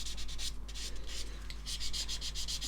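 Sandpaper rubbed back and forth over a seam on a plastic scale model, covering a wider area in steady, close strokes of soft scratchy hiss, with brief pauses between passes.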